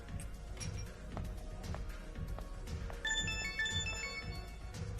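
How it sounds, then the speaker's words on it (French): A mobile phone ringtone chimes in a bar at night, a bright melodic tone entering partway through over a busy, murmuring room background. "Ton téléphone sonne."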